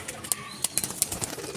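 Teddy and Ferozepuri breed pigeons cooing and fluttering nearby, with soft repeated calls and brief wing sounds over a light background hum.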